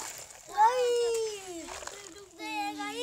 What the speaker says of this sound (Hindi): ज़्यादा पानी में फेंक देता है गाड़ी को।